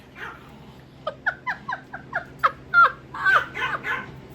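A small dog whimpers close by in a rapid run of short, high yelps and whines, rising into longer distressed cries.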